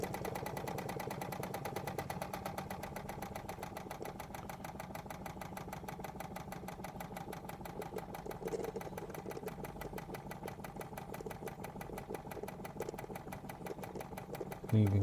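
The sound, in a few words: Wilesco D20 steam engine running, slowing down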